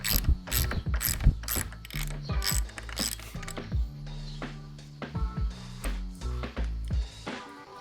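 A ratchet wrench unscrews the top cap of a mountain bike suspension fork, giving close, rapid bursts of clicking with short pauses between strokes.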